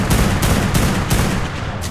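Rapid gunfire from a loaded gun in ARK: Primal Fear, fired during a Demonic Terror Bird taming: loud, dense, continuous bursts of shots running the whole time, with no talking.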